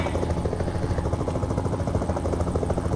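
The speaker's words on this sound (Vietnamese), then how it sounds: "mình nghe tiếng trực thăng ở đâu vậy ta" Helicopter in Euro Truck Simulator 2 droning overhead, rapid rhythmic blade thumping held at a constant, fairly loud level for the whole stretch, no one speaking.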